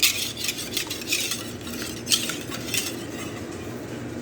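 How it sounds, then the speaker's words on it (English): A utensil stirs spices into the soaking liquid for a French toast bake, making quick close clinks and swishes against the bowl in a busy, rhythmic run with no talking. "So right now I'm just gonna mix these spices in good."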